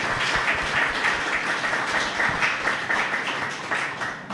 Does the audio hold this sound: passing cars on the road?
no